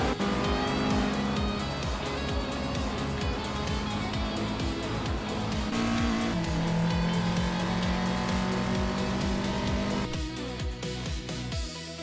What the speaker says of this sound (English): these cars are about to get wild on the track